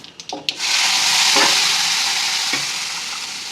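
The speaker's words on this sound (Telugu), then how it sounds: "టమాటా పేస్ట్ని ఈ పోపులో వేసుకోవాలి" Loud, steady sizzling as a wet tomato paste hits hot tempering oil, with a few clinks of a spoon at the start and a stir midway.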